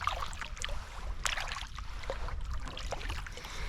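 Kayak paddle strokes dip and splash rhythmically on a lake in autumn, with soft water swishes and drips recurring every second or so, close by and moderately quiet, no talking.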